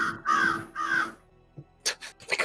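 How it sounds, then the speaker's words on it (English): Crows caw in two loud, harsh calls close by, followed by a brief pause and then a quicker burst of fainter caws and rustling. "the crows just keep startling me straight up"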